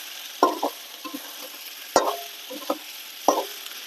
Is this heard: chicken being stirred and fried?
yes